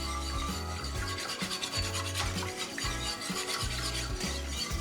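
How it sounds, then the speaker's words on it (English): Allulose is whisked into a cranberry mixture for jellied cranberry, producing a continuous, brisk rhythmic scraping and rubbing of the whisk against the bowl, close and fairly loud, without talk. "And then we are going to whisk this allulose in."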